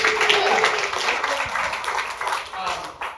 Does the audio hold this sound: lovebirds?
no